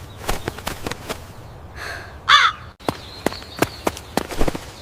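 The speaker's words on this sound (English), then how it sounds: "It's the crow, not Nutty." A crow gives a short caw in a backyard, a brief harsh burst heard once, set among sharp scattered clicks and taps.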